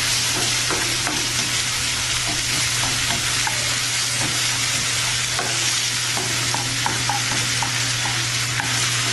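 Tomato cooks and sizzles in a frying pan while a spoon stirs it, a steady close frying hiss with scattered scraping and clicking strokes throughout.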